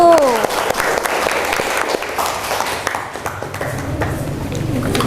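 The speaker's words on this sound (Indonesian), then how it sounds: "kita beri tepuk tangan untuk kelompok 1" A class applauds presenting group 1 after a classroom presentation, a steady wash of clapping heard throughout, with some voices and a faint tone early on.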